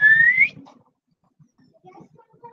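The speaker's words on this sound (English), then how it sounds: "Sorry, I'm going to whistle." A person whistles a short rising note, bright and close, which cuts off quickly before faint household sounds and a bit of quiet movement.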